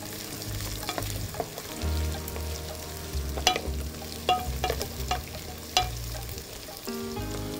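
Onions fry in a pan for spiced khichuri with a soft, constant sizzle under intermittent clinks and scrapes of a utensil stirring against the pan, and a faint tonal hum in the background.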